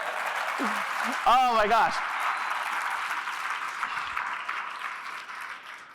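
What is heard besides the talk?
audience applause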